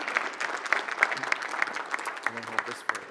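An audience at a mobility and transportation event claps in a brief burst of dense, steady applause, with a voice briefly rising over it near the end.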